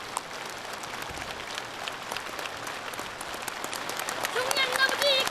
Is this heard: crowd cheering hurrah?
yes